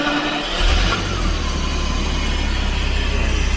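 A primed Jaguar V12 engine turns over and catches, then settles into a loud, steady idle. Its low rumble holds even and continuous after the start, with no one speaking.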